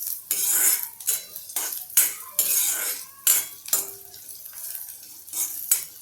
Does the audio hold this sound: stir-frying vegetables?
yes